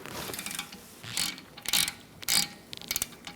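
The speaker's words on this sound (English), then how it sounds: "Using a pry bar and a 12mm socket, we're going to loosen up these" A ratchet with a 12mm socket and a pry bar loosens rear brake studs on a 2012-2019 Fiat 500, giving several short bursts of rapid clicking, close and loud, with brief pauses between pulls.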